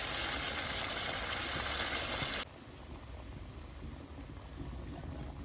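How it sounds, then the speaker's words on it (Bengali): Water is poured into a pot of meat cooking down in a thick gravy, a loud steady rushing hiss for about two and a half seconds that cuts off abruptly, leaving a quieter simmering bubble. "জল দিয়ে দেবো।"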